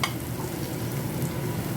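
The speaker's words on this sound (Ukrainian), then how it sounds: "Ставлю жарити цибулі на олії." Steady sizzling of onions frying in oil, a continuous crackling hiss up close.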